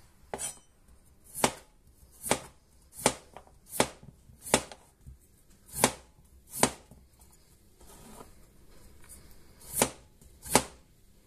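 A knife chopping through raw potatoes into round slices on a cutting board, about a dozen crisp, sharp knocks at an uneven pace, close up with quiet gaps between them and no voices.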